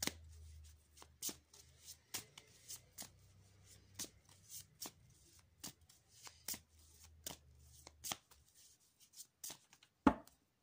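Tarot cards being shuffled by hand, a steady run of crisp riffling bursts repeating about every half second, close and fairly quiet, ending in one sharper snap, with no talking.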